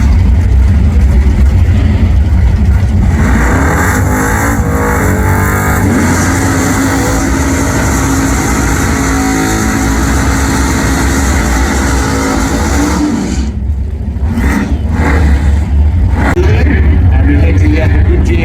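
A drag racing car at a Spring Nationals meet at The Bend Dragway roars steadily down the strip, loud and continuous, while a commentator talks over the engine noise throughout.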